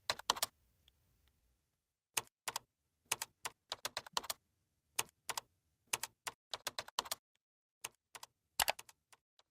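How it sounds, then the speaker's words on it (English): Quiet, close clicks of a computer keyboard as a URL is typed in, coming in short irregular bursts of keystrokes with small pauses between words, no talking. "And so I'm going to type that out over here."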